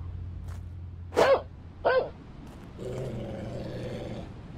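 A dog in the Shadows Peak video game gives two short, loud barks, followed by a lower, rumbling growl that trails off, set against a faint ambient hum.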